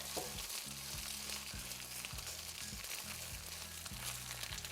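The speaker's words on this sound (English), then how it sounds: "now this is going to brown on one side for about a minute or two" A panini sandwich browning in a hot pan, giving a steady, even sizzle throughout with low background hum and no talking.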